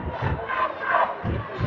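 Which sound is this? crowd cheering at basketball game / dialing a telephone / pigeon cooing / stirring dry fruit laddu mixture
crowd cheering at basketball game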